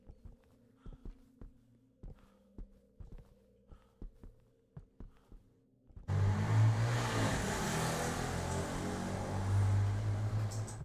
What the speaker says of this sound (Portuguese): O fantasma anda de moto.